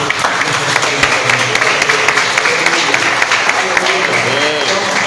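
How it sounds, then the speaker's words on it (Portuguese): A church congregation at a Pentecostal service applauds steadily, many hands clapping together in a dense, continuous wash of sound, with a voice faintly underneath. "Pode aplaudir a Jesus."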